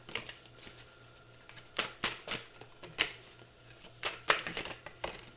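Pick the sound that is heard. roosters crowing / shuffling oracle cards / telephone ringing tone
shuffling oracle cards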